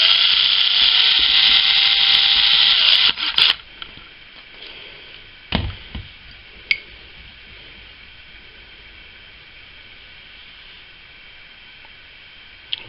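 Electric shaver cutting blades spun against a sharpening surface, a loud, close high-pitched whirring that runs for about three seconds, then stops, followed by a few scattered clicks and knocks of handling.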